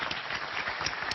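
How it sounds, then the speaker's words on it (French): Studio audience on a French celebrity game show clapping together, a dense, steady wash of applause filling the short moment without pause. "Ça s'applaudit"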